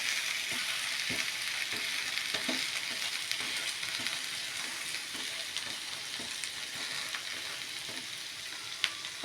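Onions and cumin fry with butter in a pan, giving a steady, even sizzle close by with faint stirring taps scattered through it.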